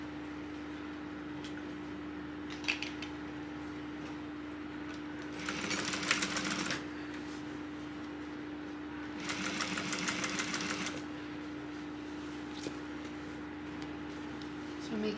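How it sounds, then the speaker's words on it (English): A sewing machine top stitches along the edge of a tote bag at an eighth-inch seam allowance, in two short bursts of running over a steady hum, with talk around them. "we're going to top stitch right along this edge right here"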